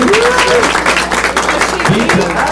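A room full of people at a happy hour event claps steadily, a dense patter of applause with voices calling out over it.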